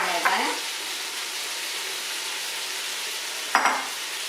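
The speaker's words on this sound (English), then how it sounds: "Stir." Celery and carrots sizzle steadily in a hot pot for beef stew, a constant close frying hiss with two brief scrapes of stirring near the start and end.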